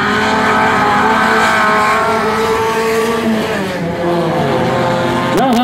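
Light-category race cars entering a curve side by side on a dirt track, engines roaring loudly and continuously close by with shifting pitch as they brake and slide, a sharp rev rising at the end.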